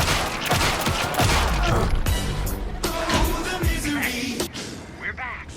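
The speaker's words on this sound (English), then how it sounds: "Anderson, pin him down with gunfire for me to get the light on him." Gunfire rattles in Alan Wake 2, with rapid, dense bursts of shots stacked close together in a tense fight, and voices talk over the shooting.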